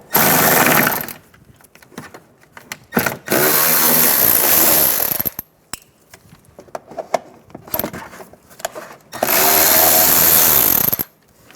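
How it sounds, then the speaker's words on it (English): A ratcheting socket tool spins out 10mm bolts from the inner fender liner in the wheel well of a 2014-2019 Toyota Highlander, in several loud, close bursts of whirring and clicking with quiet handling noises between them. "Using a 10mm socket, remove the bolt on the bottom of the inner fender liner."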